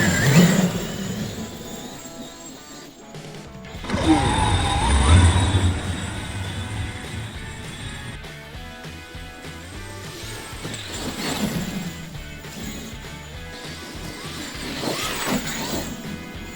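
A Traxxas X-Maxx 8S RC car on paddle tires launches across grass with a surging electric motor whine, rising and falling over several bursts as it accelerates away and returns.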